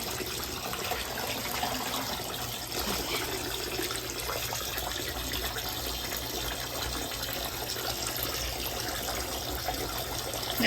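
Water runs steadily into a container while dyed fabric is wrung out nearby, a continuous loud close gush with no pauses or talking throughout.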